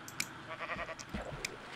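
Soft, faint sheep bleats from the video game Minecraft, a short wavering call with a few light clicks around it, quiet and without speech.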